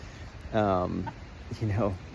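A chicken nearby lets out two short bursts of clucking, under someone talking.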